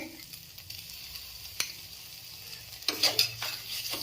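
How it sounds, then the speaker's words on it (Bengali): Fish finger gravy with tomato sauce being stirred in a pan, a faint sizzle with one sharp clink early on and a brief burst of louder stirring and scraping near the end. "ভালোভাবে নাড়াচাড়া করে নিলেই আমার রেডি হয়ে যাবে ফিশ ফিঙ্গার বানানোর জন্য।"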